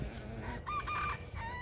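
Chicken clucking and crowing close by in two bursts, with a short pause between them and a quieter call after.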